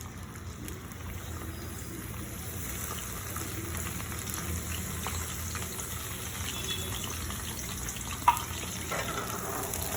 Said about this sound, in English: now we'll just pour this aloe vera, the pulp of the aloe vera in it.